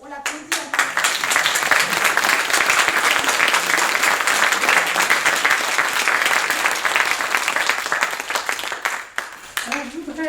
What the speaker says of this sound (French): Donc on l'applaudit un peu.